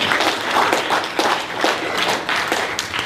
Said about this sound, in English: Clap your hands if you're African.